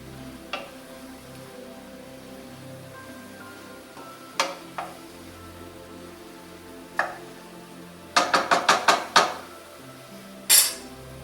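A utensil stirs pork soup with lo mein noodles in a cooking pot, sparse metallic clinks against the pot, then a quick run of five or six scraping knocks and one last sharp clank, close and clear. Nobody talks.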